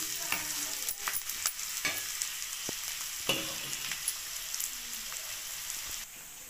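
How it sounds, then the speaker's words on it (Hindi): Mixed vegetables for paratha stirred and roasted in a pan, a steady close sizzle broken by repeated scraping knocks of the spoon at an irregular pace, with no voices. "और इसे मैं अच्छी तरह से भूनूंगी जब तक ये हल्की ब्राउन ना हो जाए"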